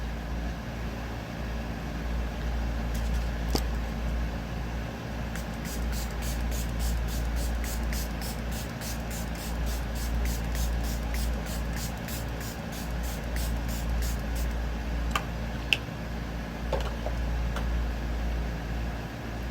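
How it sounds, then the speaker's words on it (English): Face mist sprays onto a face in a long rapid series of short pumped bursts, each spritz a crisp hiss, close and clear over a steady low room hum. "I'm going to spray my face."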